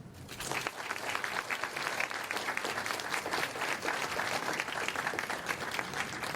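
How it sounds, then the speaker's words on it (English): Audience at an NAACP Freedom Banquet breaks into sustained, loud applause, a dense wash of clapping hands that swells quickly and holds steady to the end, with a few faint voices mixed in. "Let's give a hand for Dr."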